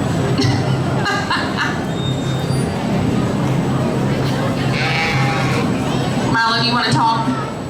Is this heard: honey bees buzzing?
no